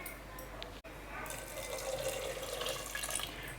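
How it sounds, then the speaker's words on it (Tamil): Water running into a cooking pot of green gram sprouts, a steady close faucet-like hiss and trickle, fairly quiet, with one brief cut near the start. "இன்னும் கொஞ்சம் தண்ணி சேர்த்துக்கிறேன்."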